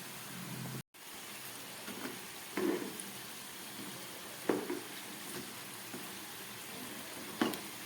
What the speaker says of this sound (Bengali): এইভাবে সুন্দর ঘুরিয়ে ফিরিয়ে এইভাবে লাল লাল করে ভেজে নিতে হবে।